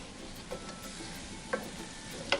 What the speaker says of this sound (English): start scraping up that pan